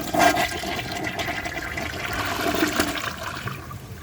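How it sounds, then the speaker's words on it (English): A 2022 RI Mansfield Summit 10-inch toilet flushes with a loud rushing surge of water that swells at the start, churns steadily, then begins to taper off near the end. "So I'm going to give it another flush and see if it can take the rest of that blue marker."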